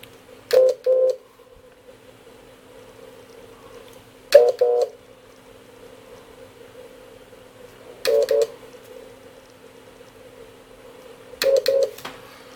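Audio tone from a QCX 20 meter transceiver kit: four short, evenly spaced bursts of a steady beeping tone, each about half a second, over a low constant hum and faint hiss.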